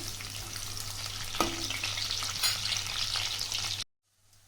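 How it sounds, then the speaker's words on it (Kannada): Onions and curry leaves fry in hot oil in a pan for chicken masala gravy, a steady close sizzle with a faint utensil scrape, cutting abruptly to near silence near the end. "ಈಗ ಈ ಆನಿಯನ್ನು ಸೇರಿಸ್ಕೊಳ್ಳೋಣ. ಇದು ಸ್ವಲ್ಪ ಫ್ರೈ ಆಗಬೇಕು."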